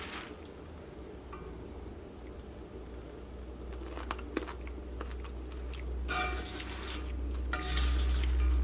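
Someone bites and chews crispy caramel and chili popcorn seasoned with soy sauce, giving close crunches that grow louder and denser toward the end, with no talking.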